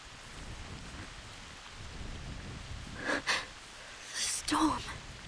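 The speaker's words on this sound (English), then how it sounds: "Storm." A video game rainstorm with a steady hiss of rain and two bursts of thunder rumbling through it a second or so apart, fairly quiet overall.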